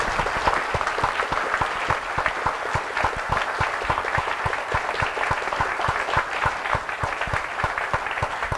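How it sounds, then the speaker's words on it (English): An audience at a city club talk on globalization and labor claps steadily, a dense sustained applause filling the room without a voice over it. "Let's give him a round of applause."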